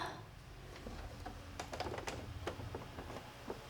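A sewing machine top-stitching across a fabric key fob, a quiet close run of rapid ticking needle strokes over a soft low motor hum, with no talking.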